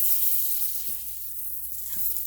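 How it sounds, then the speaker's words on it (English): Steady hiss of salmon frying in a pan, a continuous bright sizzle with a couple of soft clinks, close by. "I'm frying this fish"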